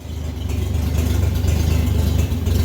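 A 1964 Chevrolet Bel Air V8 idles steadily in a speed shop, a close, loud, rumbling low drone with a slight rattle and a gentle pulsing rhythm and no voices.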